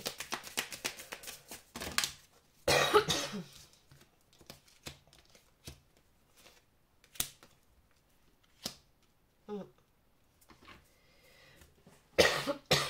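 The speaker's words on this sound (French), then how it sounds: "je tousse beaucoup, je suis encore malade" A series of harsh coughs in separate bursts, close and fairly loud, with quiet pauses and small rustling noises between them.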